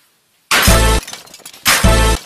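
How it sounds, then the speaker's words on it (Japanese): Two loud, sharp impacts about a second apart as a cased iPhone is struck, each a harsh cracking smash of glass with a heavy low thud, followed by brief scattering rattles. "おい、割れた音したぞ今。"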